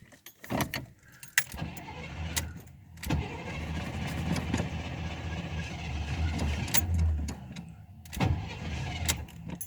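An older Chevrolet Monte Carlo engine cranks repeatedly and struggles to catch while apparently flooding, with irregular starter whirring, sputtering and clunks heard close up in a series of uneven bursts.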